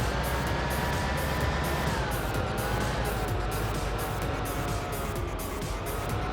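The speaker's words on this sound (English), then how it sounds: "I do like the sound of that truck." A truck engine in the Construction Simulator video game drones steadily, with a continuous low rumble and slowly drifting tonal whine, rendered as game audio without talk over it.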